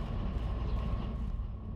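Rumbling low drone of a train rolling along in the video game Derail Valley, a steady, close, continuous roar with no pauses.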